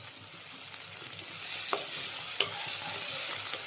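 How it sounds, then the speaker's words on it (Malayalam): Sliced onions with salt are stirred and sautéed in a hot pan, giving a steady frying hiss broken by a couple of sharp spatula scrapes near the end, with no voices. "ഉപ്പ് ചേർത്ത് സവോള ഇളക്കിക്കൊണ്ടിരിക്കുക."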